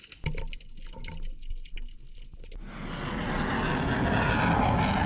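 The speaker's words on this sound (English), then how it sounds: "While that was an unexpected flyover, it's also quite common to see the fighter jets on the coast." A fighter jet flies over the coast near Panama City Beach pier, its engine roar rising from faint to a loud, broad rush that builds steadily over the second half after quieter bubbling water sounds.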